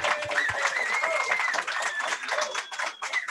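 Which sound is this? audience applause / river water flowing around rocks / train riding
audience applause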